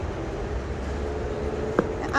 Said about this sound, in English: But that's not our train.